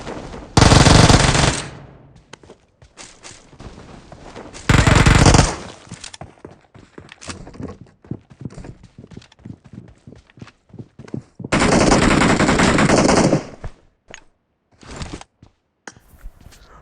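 Automatic weapon fire in the shooter game PUBG comes in three loud, sustained sprays, each lasting about one to two seconds. Between bursts there are scattered single shots and clicks, and no talk.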